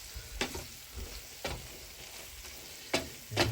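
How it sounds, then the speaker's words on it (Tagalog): Corned beef sautéed with potatoes, stirred in a pan, with a steady sizzle and four distinct scraping stirs of the spatula against the pan bottom. No one speaks. "Haluin ulit natin guys"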